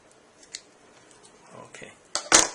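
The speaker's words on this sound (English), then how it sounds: "to do this little curve area here, it's a lot easier to cut it with the scissors" Small scissors cut a tight curve in the part for a model airport jetway: faint scattered snips early on, then a few louder, closer crisp cuts near the end in an otherwise quiet room.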